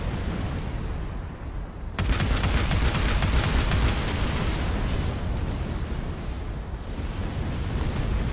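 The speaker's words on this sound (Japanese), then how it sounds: "キャノン砲命中だ" Cannon fire striking targets in the naval battle game Figureheads: a heavy blast two seconds in, followed by a rapid barrage of booming impacts and crackling bursts that rumble on at full loudness.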